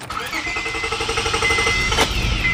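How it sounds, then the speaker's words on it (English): A 2003 Honda Accord 3.0 V6 engine cranks with a rhythmic starter whir, then catches and settles into a steady idle hum, close and fairly loud. "Let's fire up the engine"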